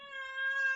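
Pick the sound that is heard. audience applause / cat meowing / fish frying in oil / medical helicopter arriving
cat meowing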